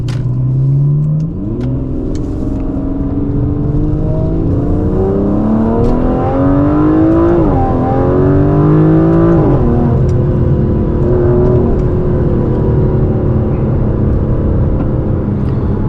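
An Aston Martin DB11 V12 accelerates hard and loud up close, its engine note climbing through gear after gear with brief dips at each shift, a steady powerful roar running throughout.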